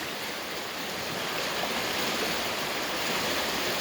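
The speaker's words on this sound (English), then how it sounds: "It's almost like the waves are, it's almost like it's lapping here on the shoreline." An overflowing creek laps and rushes against its shoreline near a pump house in a continuous, moderately loud watery wash with a soft breezy hiss on top and no talking.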